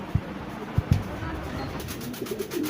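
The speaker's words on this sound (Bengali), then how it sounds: "এই যে কবুতর আছে আবার এখানে। এই যে এই যে বাকুম বাকুম ডাকতেছে" A few soft, low pigeon coos, short and spaced apart, over a faint background murmur.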